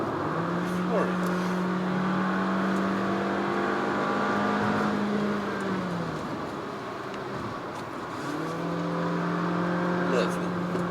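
A Honda HR-V Hybrid at full throttle fills the cabin with a strong, rising engine drone that climbs in pitch, drops briefly as if shifting, then climbs again under continuous road and wind noise.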